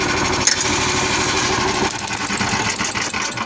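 A car engine runs steadily at idle while its exhaust is routed to inflate a tire, a continuous close rumble with a slight shift in tone partway through, no voices.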